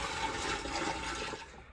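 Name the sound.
buckets of water poured through a boat's bilge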